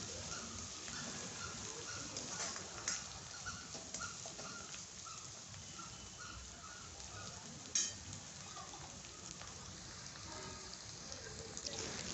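Turmeric added to a sautéed ground masala paste to make a tempering for besan bhaji gives a steady, even sizzle of hot oil throughout, with a few light stirring taps and no voices.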